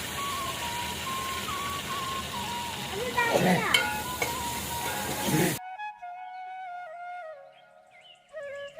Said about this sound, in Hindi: नमक और चिकन को अच्छी तरीके से भून लें आप